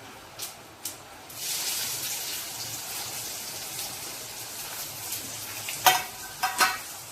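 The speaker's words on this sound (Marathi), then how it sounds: "जिरं चांगलं फुललं की त्यावर आपण कांदा टाकणार आहोत." Onion hits hot oil tempered with mustard seeds and cumin, raising a soft, steady sizzle, with a few spoon clinks and stirring scrapes on the pan before and after.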